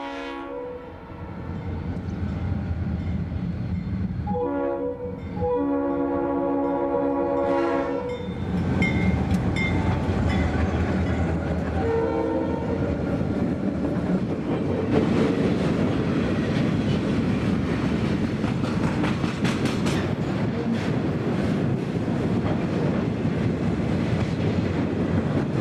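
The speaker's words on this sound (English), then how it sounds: "let a goods train overtake him" A goods train passes with two loud horn blasts, then a long steady rumble and rhythmic clatter of wagons rolling by on the rails, close and continuous.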